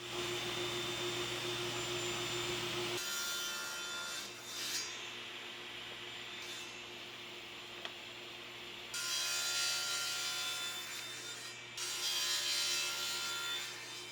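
A saw cuts through an MDF sacrificial fence while wood panels for coasters are trimmed, a loud steady machine whine and rasp that drops back and then surges again as the blade passes through.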